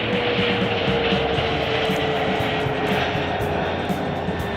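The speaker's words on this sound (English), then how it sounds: "non-stop plane coverage here at Chicago O'Hare International Airport" Airplane at Chicago O'Hare International Airport produces a steady, loud engine roar with a constant droning tone, continuous and unbroken, with no voices.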